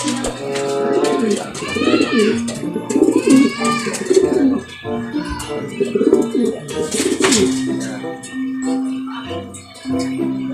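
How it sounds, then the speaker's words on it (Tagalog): Pigeons coo repeatedly at a loft, soft rolling calls close by, layered with other bird chatter while someone talks over them in Filipino. "Ayan natin mga ibon pang norte mga kalapatids."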